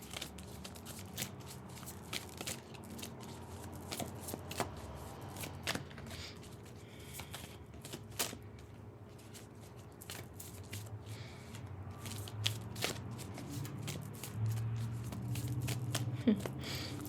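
Tarot cards are shuffled and handled close up in quiet surroundings, soft papery riffles and flicks recurring irregularly throughout, with a low background hum.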